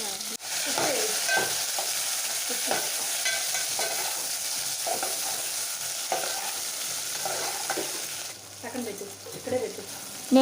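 Chili powder, coriander powder, turmeric and sambar masala are stirred through vegetables frying with brinjal in a pan. A steady sizzle carries repeated scraping and stirring strokes, up close, and fades slightly near the end with no voices.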